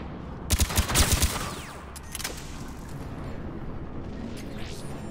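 Automated turret firing in the Mass Effect 3 video game: a loud rapid burst of shots in the first second and a half, then metallic mechanical whirs and creaks over a low background hum.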